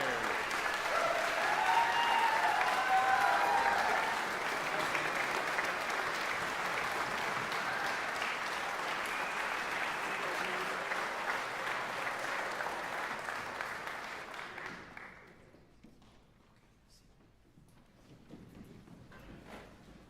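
A concert audience applauds a composer after a wind ensemble performance at a summer music camp, steady dense clapping lasting about fifteen seconds before quickly fading into a quiet room with faint scattered claps.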